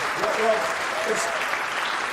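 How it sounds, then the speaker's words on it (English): Brief burst of audience applause at a Conservative Party conference, steady and moderately loud over about two seconds, with a voice faintly audible amid the clapping. "go on, give him a round of applause while he's doing the job"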